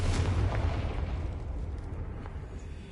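A Confringo spell explosion in Hogwarts Legacy, a deep booming burst at the start that rumbles and fades over a few seconds.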